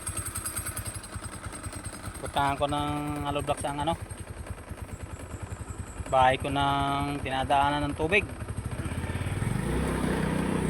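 A motorcycle loaded with cement, running along a road in Ipil, Zamboanga Sibugay, with a steady idling engine drone throughout and a rise in engine noise near the end, while someone talks over it at intervals.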